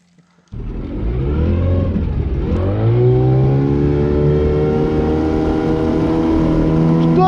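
A motorboat outboard engine on the Pechora River during a high-water fishing trip starts abruptly after a brief near-silence, then revs up and settles into a loud, close, steady droning hum.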